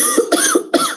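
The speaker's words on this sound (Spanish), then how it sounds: "me van a disculpar la tos" Three harsh coughs from one nearby person, each a short rasping burst, spaced roughly evenly, loud and alone, from someone with an irritated throat.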